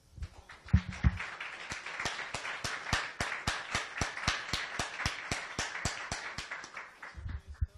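Church congregation clapping in unison, about two dozen sharp, evenly spaced claps in a fast steady rhythm, with a brief murmur of voices at the start and end.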